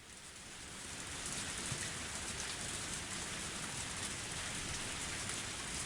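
Heavy, steady video game rain from Higurashi pours down in a dense, continuous hiss that swells slightly at the start and then holds evenly.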